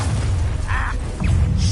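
An Expelliarmus disarming spell is cast in Hogwarts Legacy, a loud magical burst with a whooshing, booming swell over a steady low rumble of game ambience, followed by a brief sparkling flare.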